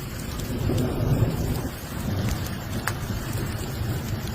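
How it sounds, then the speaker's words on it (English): Golf-ball-sized solid ice hail pelts down in Davidson, Michigan, a dense rushing clatter with scattered sharp impacts and a low storm rumble beneath, no voices. "Huge hailstorm."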